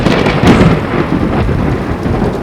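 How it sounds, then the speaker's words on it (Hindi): A thunderstorm with heavy rain pouring continuously and loudly, while deep rumbling thunder cracks and rolls through it, peaking early and then grumbling on. "उसी समय खौफनाक तूफान शुरू हो गया। बिजली ऐसे कड़क रही थी जैसे शैतान खुद दहाड़ रहा हो।"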